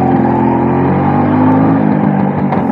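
A 1994 Bajaj Super 150 scooter's engine runs steadily and loudly close by, a continuous throbbing drone with a slight rise in revs near the end and no talking over it.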